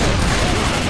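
Video game gunfire, a dense continuous rattle of overlapping shots filling the whole second, loud and close with no pause.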